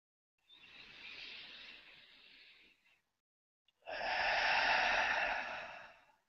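During a guided breathing meditation, a person takes two long, audible breaths, a softer airy one and then a stronger, louder breath close to the microphone, separated by a brief silence.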